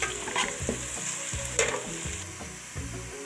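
Garlic paste frying in a pan for matar pulao, with a spoon stirring in repeated scraping strokes over a steady background sizzle, near and moderately quiet, no talking.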